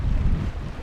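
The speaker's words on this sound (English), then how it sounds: "It's a little bit windy today" Gusty wind buffets the microphone in a brief, loud, low rumble at a rocky seaside fishing spot, with no other sounds distinct.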